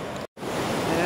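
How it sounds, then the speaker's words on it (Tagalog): Strong rushing water at Armenia Dam beneath a hanging bridge, a loud, dense, continuous roar with a brief dropout near the start, then steady again. "Lakas ng tubig."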